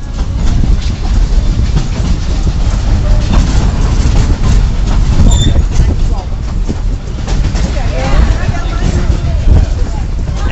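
Steady rumbling and rattling of a passenger train rolling along the tracks, with murmuring voices and chatter mixed into the noise throughout.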